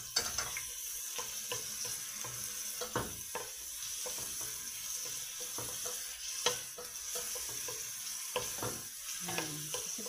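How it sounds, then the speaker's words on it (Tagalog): Onions sauté in a pan for pork lechon paksiw, with a steady soft sizzle broken by frequent clicks and scrapes of stirring, close and fairly quiet with no talk. "Gigisa natin ang sibuyas."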